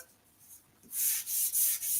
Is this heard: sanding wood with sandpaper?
yes